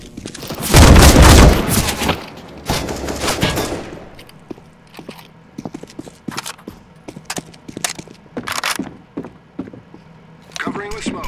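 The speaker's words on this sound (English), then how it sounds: "Flashbang." A flashbang grenade goes off in a hostage-rescue shooter game, a loud close burst with a ringing tail, followed by scattered gunfire and clatter as voices speak throughout.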